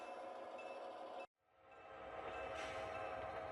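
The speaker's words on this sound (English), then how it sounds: "You gotta love the sound of that GP38-2" An HO scale GP38-2 model locomotive with an onboard sound system gives a steady diesel engine drone that cuts out abruptly, then rises back up gradually to a full, even rumble.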